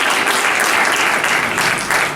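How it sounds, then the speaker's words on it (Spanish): A church congregation at an evangelical Pentecostal service claps together, a dense, steady wash of applause that stays loud and close for the whole stretch, easing slightly at the very end. "lo recibimos con un fuerte aplauso."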